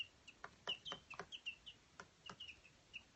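Baby chicks peeping and clucking, a quiet rapid series of short, high chirps and soft clucks close by.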